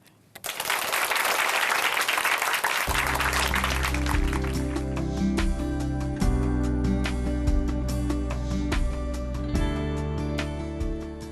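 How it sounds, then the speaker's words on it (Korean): A church congregation breaks into applause welcoming a speaker, a burst of clapping that quickly settles beneath a swelling keyboard and organ music that carries on alone. "박수로 모실게요"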